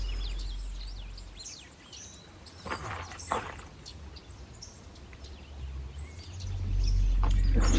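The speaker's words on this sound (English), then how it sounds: "Chestnut-sided warbler" Chestnut-sided warbler singing in an early fall bog, soft and distant, with a few brief calls and chirps from other birds over a low rumble that grows at the end.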